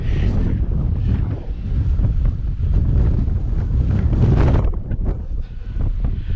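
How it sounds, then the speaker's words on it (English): Strong gusts of wind roar across the roof of a barn under construction, buffeting the microphone in loud, continuous rushing bursts that briefly ease near the end. "With this wind, I'm not standing up here."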